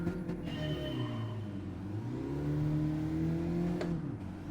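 Engine note of a car launching off the line in Gran Turismo 7, a steady mid-pitched drone that rises and dips as revs climb, close and clear with no talk over it.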